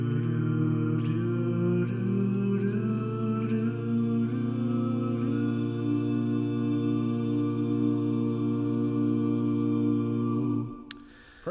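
A multitrack a cappella vocal arrangement recorded in GarageBand with parts panned across the stereo field, sustained layered voices holding a steady chord with soft rhythmic syllables on top, fairly quiet, ending abruptly.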